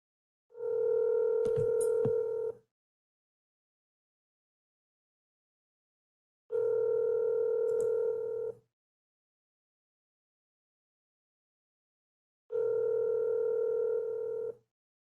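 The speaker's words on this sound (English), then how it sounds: "I'm just double checking the number before I press the dial button" A telephone line sounds three long tone bursts, about two seconds each, with roughly four seconds of silence between them, clean and moderately loud with no talking.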